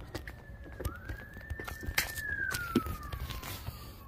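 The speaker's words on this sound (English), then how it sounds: "Your sirens." A distant siren wails, its pitch rising and falling slowly beneath scattered clicks and outdoor background noise.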